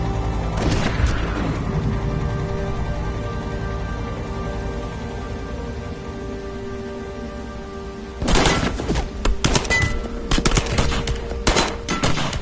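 Gunfire in the video game Heavy Rain: dense bursts of shots crack out late in the clip over steady rain and low ambient hum, after a quieter stretch with a brief early flurry.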